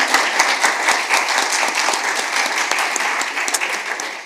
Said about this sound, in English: that's a big applause for your presentation